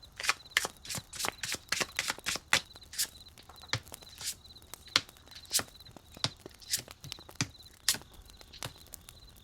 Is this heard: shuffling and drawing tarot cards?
yes